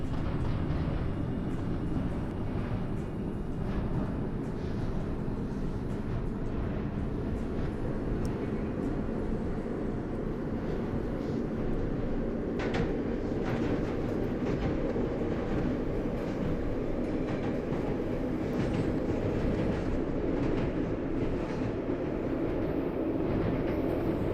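Simulated New York IRT subway express train on a Bronx-bound 2 run in the OpenBVE train simulator game, a continuous heavy rumble and roar of the train in motion, steady and loud throughout with no talk.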